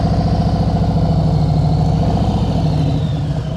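A motorcycle engine runs loud and close at a steady low throb with a slight rise in pitch, the rider approaching with the handlebars turned before jamming on the rear brake.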